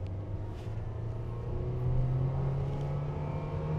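A Mitsubishi Xpander pulls away in first gear, its engine a steady low hum that rises gently in pitch as it accelerates, heard from inside the car at moderate volume.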